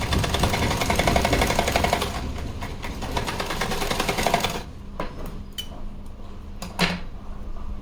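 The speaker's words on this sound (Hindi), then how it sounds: "एक सिलाई और लगा लेती हूँ।" Domestic sewing machine running steadily as it stitches fabric for a small doll's dress, a dense continuous mechanical whir for several seconds that then stops, leaving a few clicks and light handling noises.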